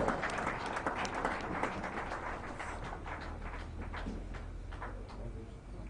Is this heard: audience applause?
yes